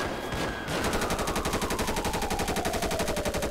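Gunfire in the video game GTA, a loud continuous machine-gun-style stream of rapid evenly spaced shots over a descending whine, with no talk.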